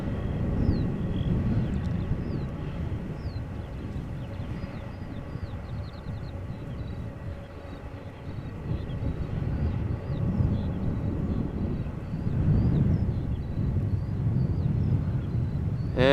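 A Boeing 747 lands in a crosswind at Amsterdam Schiphol, a steady low rumbling roar of jet engines and wind that swells toward the end.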